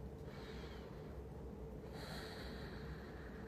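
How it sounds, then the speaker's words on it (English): A slow, soft exhale during a yoga forward fold, two faint breathy passes close to the microphone over a low steady hum, with no talking. "Exhaling, letting go of your breath."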